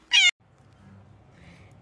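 A cat lets out one short, clear meow close to the microphone, followed by quiet low background hum.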